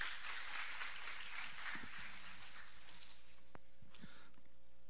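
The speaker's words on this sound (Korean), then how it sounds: "박수" Applause from a church congregation during a sermon service, a dense burst of clapping that fills the first few seconds and then thins out, with a few scattered claps trailing off near the end.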